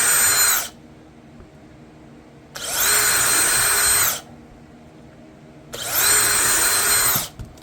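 A power drill enlarging a hole in a washboard guitar build, three loud whining bursts of drilling, each lasting a second or more, separated by near silence.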